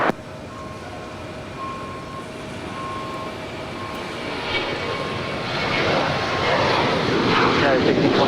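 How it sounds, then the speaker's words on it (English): A United Boeing 737-900ER jet departing LAX on takeoff, its engine roar swelling steadily from a distant hum to a loud, rushing blast, with radio chatter and faint tones underneath. "That is United 1620 departing to Phoenix. It's an 8-year-old 737-900 ER."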